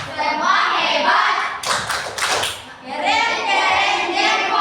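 A group plays an ice-breaking clap game, chanting together with a quick burst of several sharp, loud hand claps in the middle between the spoken lines.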